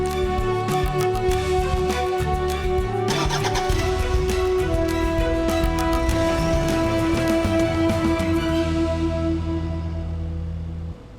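A manual car's engine runs steadily and close throughout, with a low idle hum and a faint rise as it revs briefly near the start, then settles and fades slightly at the end; no speech.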